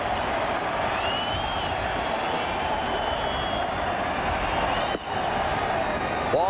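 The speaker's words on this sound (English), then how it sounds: "The sellout crowd here at Jacobs Field again on their feet" A sellout baseball crowd at Jacobs Field in Cleveland during a 1997 World Series game roars steadily on its feet, a dense, continuous wash of cheering from a large stadium audience with no clear breaks.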